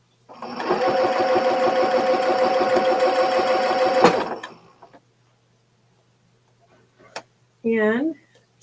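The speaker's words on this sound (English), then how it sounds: "I'm just going to sew it up a little bit further" A sewing machine stitching a quilted pickleball paddle cover made from churn dash practice panels runs steadily and loudly for about four seconds, then stops; a few faint clicks follow before a short burst of talking.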